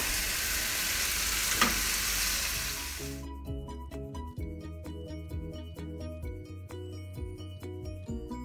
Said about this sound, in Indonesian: Dagingnya masuk.